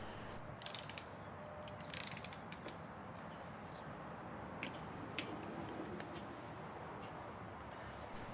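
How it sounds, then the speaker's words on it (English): Torque wrench clicking while tightening the clutch nuts on a Kawasaki Ninja 400 / Z400 set to 89 inch-pounds: faint, sharp clicks at irregular intervals over a steady mechanical background, no voices. "Just set it for 89 inch-pounds and just turn it over until you hear that little click."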